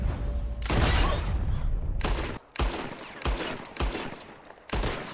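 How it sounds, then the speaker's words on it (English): Revolver shots fired at bottles in Red Dead Redemption 2: a loud opening burst of gunfire, then a string of separate sharp cracks at irregular intervals, each with a brief tail. "Whoever shoots more of these bottles wins."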